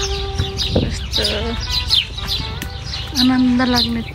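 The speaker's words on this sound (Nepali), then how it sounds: "आनन्द लाग्ने चराको आवाज" Birdsong in a Greek village near Agrinio, with bright chirps and trilling calls from several birds repeating throughout, some close and clear, over a constant outdoor background.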